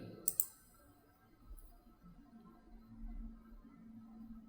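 Two quick, light mouse clicks while modelling a house in Cinema 4D, close and soft, followed by a faint low hum and near silence.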